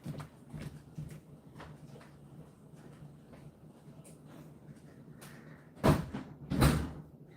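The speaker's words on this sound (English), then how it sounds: "Let me shut the back door." A house's back door is pushed shut: faint rustling and shuffling, then two solid thuds close by near the end as the door swings and latches.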